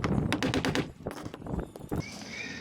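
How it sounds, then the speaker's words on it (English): An HBT HBCN45P roofing nail gun drives nails into shingles on a shed roof, with a quick series of sharp, loud pneumatic bangs in close rhythmic bursts, then a brief hiss of air. "Now this is the nail gun that you see me using. This is an HBT model HBCN45P."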